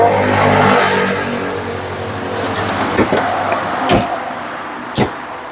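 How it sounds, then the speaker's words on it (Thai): A 2011 Nissan Navara SE pickup with a 2500 cc engine idles loudly at first, then several sharp thumps follow as its doors are shut nearby. "อ่าเดี๋ยวเดี๋ยวปิดประตู"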